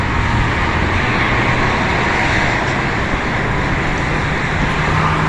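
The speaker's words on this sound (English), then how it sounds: "A lot of traffic going out on the carpool entrance." Dense, continuous road traffic streams past a carpool entrance at night, a loud, unbroken roar of engines and tires with no gaps between vehicles.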